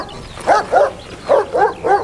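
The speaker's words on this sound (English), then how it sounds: "Is that a new guard dog?" A dog barks in a farmyard, five loud, close barks arriving in two quick bursts with a short pause between them, with no talk.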